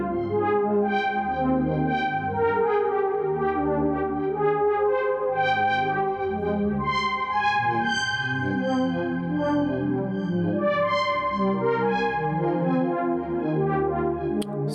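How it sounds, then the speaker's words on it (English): A Spellbook Max for Live shift register patch sequences eight synth voices at once, making a dense, continuous web of overlapping tones with shifting melodic steps, a steady loud wash that carries effects-like shimmer, with no talking. "So today I have a shift register patch where I have 8 voices"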